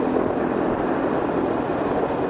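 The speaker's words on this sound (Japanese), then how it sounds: "この歯切れのいい排気音とともに120キロ巡行楽にできるという感じです。" Honda GB350S single-cylinder motorcycle exhaust cruising in fourth gear on a highway, a steady, continuous engine drone mixed with wind rush, loud and unbroken throughout.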